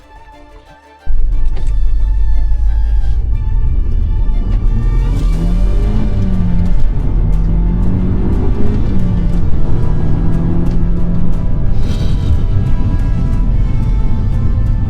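An Audi S3 engine idles after a spark plug change, starting abruptly and running loud and close, its tone rising and falling gently as the revs shift.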